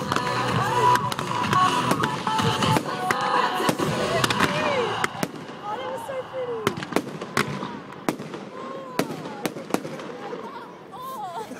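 Fireworks bursting over the Royal Melbourne Show, a steady run of sharp cracks and booms with crackling tails, loud and continuous, while a crowd murmurs and talks underneath.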